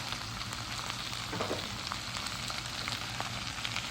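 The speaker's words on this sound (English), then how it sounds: "And now you put in the beef." Beef sizzling in hot oil with ginger and scallion in a stir-fry, a continuous crackling hiss with scattered pops and stirring, steady and close, with no voices.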